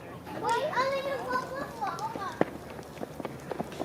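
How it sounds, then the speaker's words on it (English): A small child's running footsteps approach quickly amid excited children's voices and playful shouting, with a few sharp taps near the end. "I hear footsteps."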